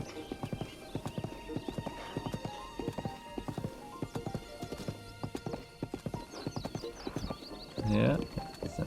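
A horse gallops across open terrain in Zelda: Breath of the Wild, with rapid, steady hoofbeats that continue throughout. The horse whinnies once near the end.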